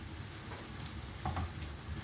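Rice pilaf-style grain pan-roasting, with a faint continuous frying hiss and a couple of light stirring scrapes near the end, close and quiet.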